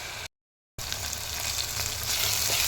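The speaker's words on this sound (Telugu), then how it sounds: "కొంచెం గోల్డెన్ బ్రౌన్ వచ్చే వరకు ఫ్రై చేసుకోవాలి." Oil sizzles and crackles steadily in a pan as ingredients fry toward golden brown for a mutton curry with raw mango, close and continuous after a brief gap.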